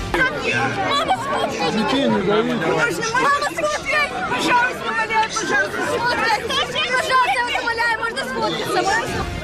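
A large crowd gathered for Putin in Dagestan, Russia, a dense, loud babble of many voices chattering and calling out at once, steady throughout with no single speaker standing out.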